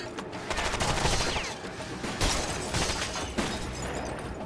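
Dense rapid gunfire and bursts fill a firefight in the video game Rainbow Six Vegas 2, continuous and loud with overlapping shots and explosions throughout.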